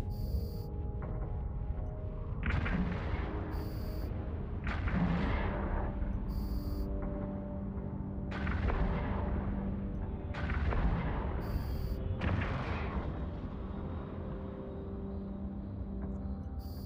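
Spaceship primary weapon in Eve Online firing repeatedly, deep booming shots about every two seconds with long rumbling tails, alongside faint periodic electronic beeps.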